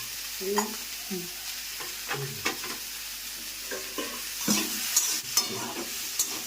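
Sliced bitter gourd and potato frying with turmeric and salt in a pan, a continuous sizzle broken by repeated scraping stirs and clinks of the spatula, close and fairly loud.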